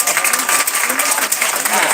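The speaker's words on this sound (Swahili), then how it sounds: "Hebu tupige makofi mazuri." Audience at a live church band event breaks into sustained applause, a dense wash of clapping and crowd noise holding steady for the whole two seconds, with voices mixed in.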